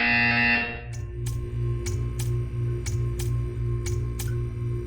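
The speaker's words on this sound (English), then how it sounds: "You will hear a buzzer." In the video game Portal 2, a steady electronic hum gives way to a series of short, sharp buzzer bursts repeating at a regular pace, clear and close.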